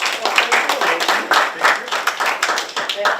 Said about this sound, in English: I think we should give you a round of applause for your great work.